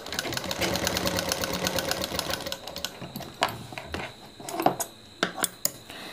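A sewing machine stitches nighty fabric, running steadily for a few seconds, then giving way to a series of sharp clicks and clacks of handling and adjusting the work.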